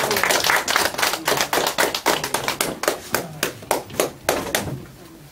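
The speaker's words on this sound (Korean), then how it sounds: "박수로 맞아주시기 바랍니다." A crowd at a lecture gathering claps to welcome a speaker, the crisp individual hand claps loud and close, gradually thinning and slowing into separate, distinct slaps.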